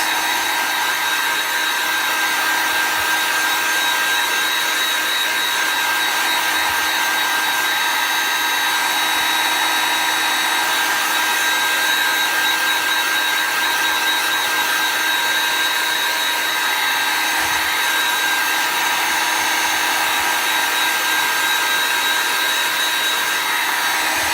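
A hair dryer blows steadily and loudly on freshly applied chalk paste, a continuous whirring roar with a faint high whine that holds unbroken throughout.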